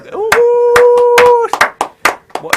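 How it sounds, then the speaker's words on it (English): A handful of sharp, evenly spaced hand claps ring out up close, with a sustained vocal tone held over the first half. "Let's give a round of applause once again for him."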